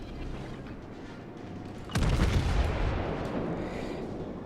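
Warship guns firing shells in the naval video game World of Warships: low rumbling battle noise, then one sudden heavy boom whose roar slowly fades away.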